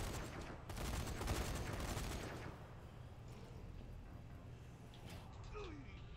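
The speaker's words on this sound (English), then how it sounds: "A turret. Now this will cause some chaos." Turret gunfire in Zombie Army 4: Dead War on Xbox Series X, a burst of rapid rumbling shots in the opening seconds that fades into lower game noise.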